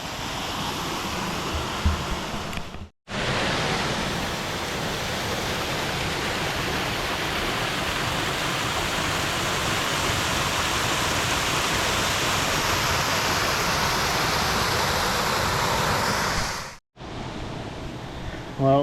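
A creek running near an old mine shaft gives a loud, steady broadband rush of flowing water, close and continuous, broken briefly by two short cuts at the start and near the end, with no talk over it.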